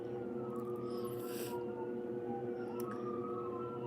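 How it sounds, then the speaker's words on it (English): Faint wailing sirens rise and fall in the distance over a steady low background hum. "Do you hear that? There's some sirens."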